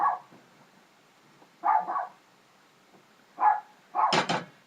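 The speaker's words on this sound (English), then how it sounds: "My doggy's barking." A dog gives several short barks and yips in separate bursts, fairly close, with quiet gaps between them and no talking.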